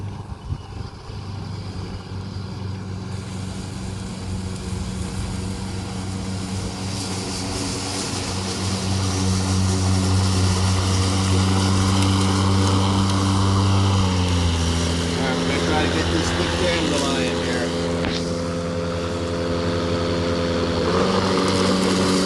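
A DeWalt 20V Gen2 brushless 21.5-inch self-propelled lawn mower cuts grass close by, its steady electric motor hum rising and thickening as the blade loads up in the grass, loud and continuous with no talking.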